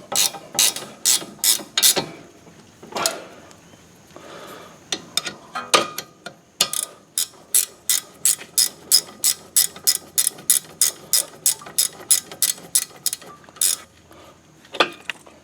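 A ratchet clicking in quick, evenly spaced bursts while tightening brake caliper bolts on a 2005 Honda Accord front brake, loud and close with brief pauses between strokes.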